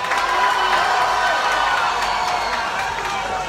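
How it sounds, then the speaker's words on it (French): A crowd at an outdoor charity concert cheers and applauds in a dense, sustained roar with scattered claps and whoops, while a voice talks over the noise. "Applaudissez comme s'il avait marqué le but au Nouka."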